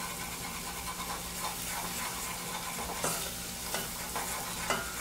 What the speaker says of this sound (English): I'm going to brown this. Not really brown it, but just cook the flour in.